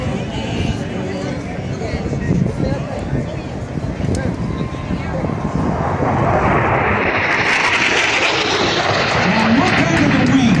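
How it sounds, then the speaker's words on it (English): A United States Marine Corps AV-8B Harrier II jet takes off and passes by, its engine roar building steadily into a loud, broadband blast that swells toward the end, with a voice talking over the noise early on. "Here comes your United States Marine Corps AV-8B Harrier 2."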